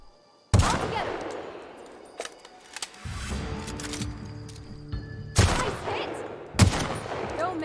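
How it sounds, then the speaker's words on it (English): Hunting rifle fired in the video game The Outer Worlds: three sharp, loud shots spaced seconds apart, each a sudden broadband crack with a ringing tail, over a steady low ambient drone. "Let's equip my hunting rifle."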